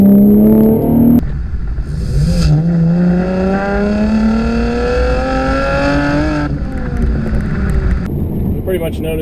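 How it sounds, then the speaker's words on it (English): A 2015 Chevrolet Camaro 1LT with a manual transmission and dual mode performance exhaust drops into second gear and accelerates hard, its loud, close engine and exhaust note climbing steadily in pitch before easing off. "I dropped it down into second and took off. When I did that, the exhaust kicks in and you can hear it right away."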